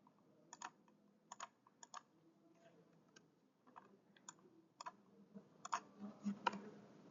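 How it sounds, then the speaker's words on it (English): Keys on a computer keyboard tapped to enter a spreadsheet SUM formula, quiet and close: short bursts of soft clicks in an uneven rhythm, with brief pauses between groups. "let's type in the formula."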